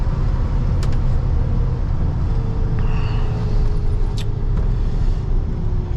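A 1985 Chevy K10 short bed pickup with 53k miles, heard from inside while driving: a steady loud engine and road drone with faint rattles and light clicks.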